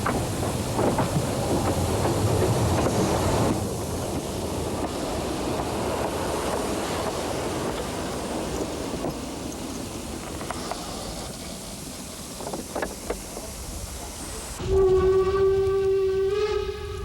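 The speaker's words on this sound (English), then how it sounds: "the Jonsdorf branch locomotive was being prepared for its next trip" Jonsdorf branch line steam locomotive being readied at Bertsdorf station in bad winter weather, a rushing steam hiss and rumble that fades, then a sharp sustained whistle blast near the end.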